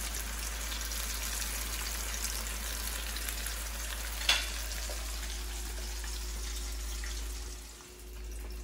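Crispy potato tacos dorados frying in hot oil over medium heat, a low, even sizzle with one sharp clink partway through, heard alone.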